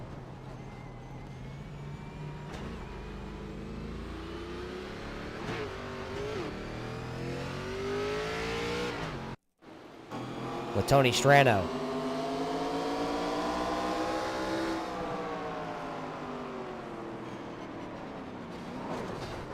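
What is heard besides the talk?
race cars on a racetrack, engines revving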